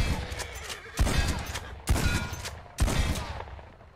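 Three loud shotgun blasts at a safe in Red Dead Redemption 2, evenly spaced about a second apart, each a sharp close boom followed by a decaying echo.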